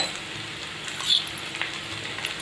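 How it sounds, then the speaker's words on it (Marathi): Green chili and garlic paste drops into hot oil with onion and curry leaves for a Marathi cabbage dry bhaji, giving a soft, steady sizzle with a slight bump as it lands, close and unaccompanied by talk. "आता त्याच्यात आपण मिरची आणि लसणाची पेस्ट बनवली ती घालणार आहोत"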